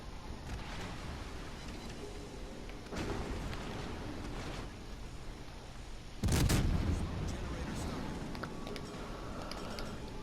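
Heavy naval gunfire from warships in World of Warships Legends, including a Monarch battleship: a deep boom near the start and a louder, sharper salvo about two-thirds through, both set over a steady low rumble of battle ambience.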